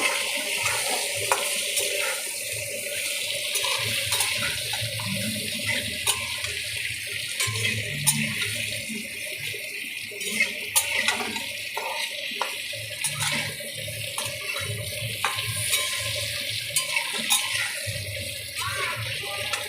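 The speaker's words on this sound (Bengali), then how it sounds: "এইবার ওই তেলের মধ্যে আলুগুলোকে একটু ভেজে নেব" Potatoes fry in hot oil with salt and turmeric, giving a steady, hissing sizzle with occasional stirring knocks that lasts throughout at close range.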